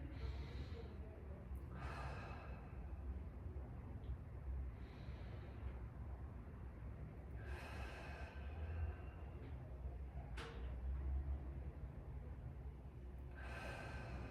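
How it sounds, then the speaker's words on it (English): Slow, deep breathing during a guided breathwork practice, with soft inhales and long drawn-out exhales recurring every few seconds over a steady low background hum. "just a deep breath in, longer exhales"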